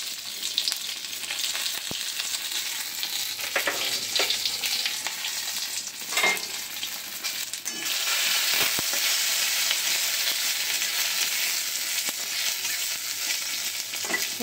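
Dried red chillies, bay leaf and a five-spice seed mix crackle in hot oil, a dense sustained sizzle with scattered pops and stirring scrapes that swell louder partway through.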